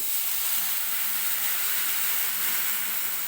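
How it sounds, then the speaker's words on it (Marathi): Warmed milk, half a litre, goes into a hot kadai of roasted vermicelli for custard, giving a steady, close hissing sizzle that holds evenly for the whole few seconds. "तर याच कढईत मी दूध टाकून घेते"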